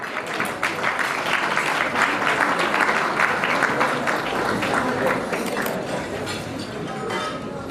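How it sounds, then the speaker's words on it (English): Audience applause at a youth organization's gala, steady and dense clapping from a large crowd filling the room without break. "Give him a big round of applause"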